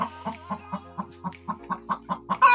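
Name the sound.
hens clucking in coop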